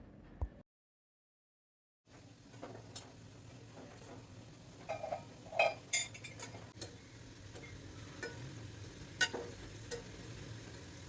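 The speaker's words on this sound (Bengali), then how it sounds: "মিডিয়াম আঁচে আমি বড়াগুলো ভেজে নিব, মোটামুটি গোল্ডেন হওয়া পর্যন্ত ভাজবো।" Egg pakoras deep frying in hot oil over medium heat, a steady soft sizzle with scattered crackles and pops, faint and continuous after a brief silent gap near the start.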